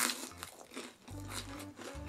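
Crunchy bites into a crispy fried yaki mandu dumpling filled with glass noodles, several close, crisp crackles in quick succession with soft chewing between, no talking.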